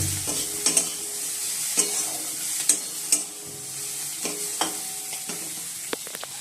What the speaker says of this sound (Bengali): এর মধ্যে সবজিগুলো একটু ভেজে নিচ্ছি